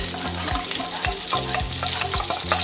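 Thick, solid cow ghee melting in a pan for carrot halwa hisses softly and steadily, with a recurring low droning tone underneath and no speech.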